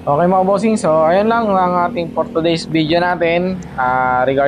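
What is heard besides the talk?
No everyday noises stand out.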